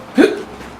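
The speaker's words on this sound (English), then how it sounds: "I have the hiccups." A single sharp hiccup, close and fairly loud, a short voiced gulp with no other sound around it.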